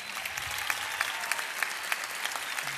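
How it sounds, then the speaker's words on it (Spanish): Audience applause at a university games opening ceremony after a circus arts performance, a steady wash of clapping with a few sharper claps standing out, heard at moderate distance. "Así que renovamos el aplauso para ellos."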